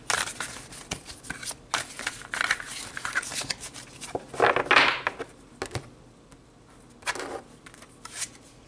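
Tarot cards being shuffled and drawn, close-up riffling and snapping bursts in irregular flurries, with louder swishes midway and near the end, no talking.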